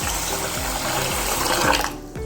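Water runs steadily over washed rice in a container for about two seconds, a continuous splashing pour that stops abruptly near the end.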